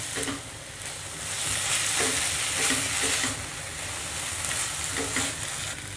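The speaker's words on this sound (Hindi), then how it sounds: "फ्लेम को हाई करके अच्छी तरह से सारी चीज़ों को हमने मिक्स कर लिया है" A chicken kabab mixture with red chillies and black pepper powder is stirred in a pan over a high flame, giving a steady broadband sizzle with repeated spoon scrapes throughout, close and fairly loud.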